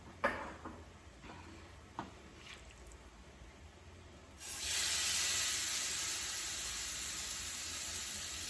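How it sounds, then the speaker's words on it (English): Avocado cooking spray sprayed onto a grill: a few faint clicks and taps, then a sudden sustained close hiss of the aerosol lasting about four seconds. "I'm gonna spray with a little bit of my chosen avocado cooking spray so they don't stick."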